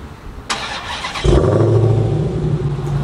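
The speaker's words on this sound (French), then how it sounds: "Tu peux m'expliquer, tu peux démarrer la voiture avec la clé?" A supercharged 810-horsepower Dodge Challenger cranks with a squealing starter, then catches and settles into a loud, steady idle with a whining hum.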